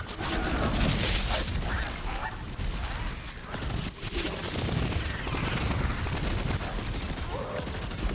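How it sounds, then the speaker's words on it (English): A fire-element gun in the video game Tiny Tina's Wonderlands blasts a boss with dense, continuous rapid gunfire and layered impact effects. The loud barrage fills the whole stretch. "Alright, so we're going to switch to our fire gun."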